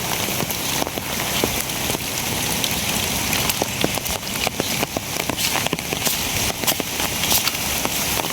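Steady heavy rain pours down during a fishing outing, hissing across surfaces with a dense, continuous patter and scattered louder drops.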